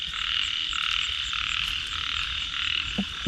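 Big egg-laden frogs croak in a chorus across rice paddies during heavy rain, a loud continuous trilling din that blankets the field, with a faint thump at the end.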